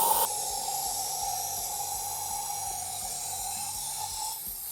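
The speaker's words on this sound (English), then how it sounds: "now I'm going to apply some brake cleaner to clean up the intake" Brake cleaner sprayed from an aerosol can into a dirty carburetor intake, one steady close hiss held for several seconds, loudest at the start and ending abruptly.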